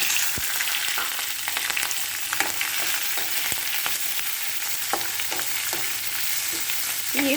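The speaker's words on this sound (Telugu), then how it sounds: "ఇప్పుడు పచ్చిమిర్చి వేసుకుందాం" Green chillies fry in hot oil in a pan, a steady close crackling sizzle throughout with occasional sharp pops and spoon taps, no voices.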